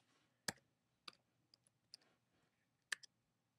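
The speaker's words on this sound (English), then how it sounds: "I'm just typing Cydia." Typing on a computer keyboard, a few sharp isolated key clicks spaced irregularly, quiet and close with a soft background hiss and no speech.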